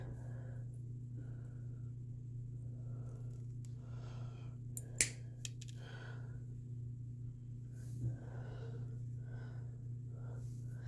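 A few faint, sharp snips cut a small knob piece to length while customizing a 1989 Dodge D-150, isolated clicks over a quiet steady hum.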